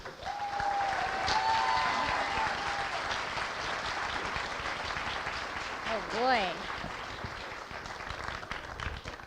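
A large university audience breaks into sustained applause to welcome a returning speaker, the clapping loud and dense at first and thinning slightly over time, with a few scattered cheers and a brief spoken exclamation mixed in.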